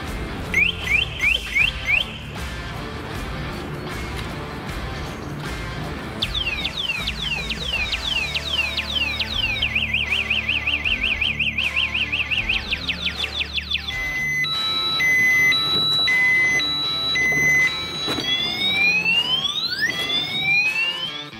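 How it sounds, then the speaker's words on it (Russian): A CityCoco three-wheeled electric scooter's anti-theft alarm blares nearby in a looping sequence of chirps, warbling sweeps and rapid beeps, loud and continuous, with no voices. "Если попытаться укатить трехколесник с включенной сигнализацией, City Coca включит звуковое оповещение"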